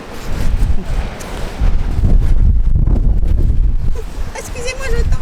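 Strong storm wind buffets the microphone on Trestraou beach in Brittany, a loud continuous roaring rush with gusty swells throughout, a voice briefly audible near the end.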